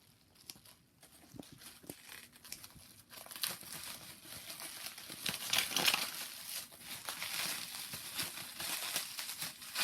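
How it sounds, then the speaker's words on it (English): Packing tape on a package holding a 1970s Dover elevator position indicator is cut and pulled away, producing close crinkling and crackling of tape and wrapping that grows busier and louder toward the end. "I'm going to cut this tape here."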